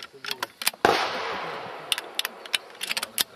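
Rifle shots aimed at targets at a running-and-shooting race: a string of sharp, close cracks, one louder shot trailing a long decaying echo, then scattered irregular snaps, with no talk.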